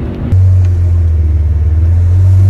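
A Mercedes V12 car engine revs hard after a short quiet lead-in, then holds a loud, deep, steady roar close by for the rest of the moment.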